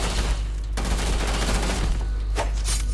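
A rapid, dense fusillade of gunfire in the video game Starfield, loud and close, with bursts cutting off briefly and resuming, and no voices over the shooting.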